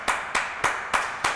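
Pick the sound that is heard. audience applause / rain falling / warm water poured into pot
audience applause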